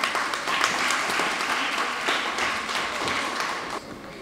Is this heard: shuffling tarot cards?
no